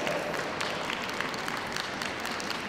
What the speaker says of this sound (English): Win through from such a fantastic entry obviously deserves a round of applause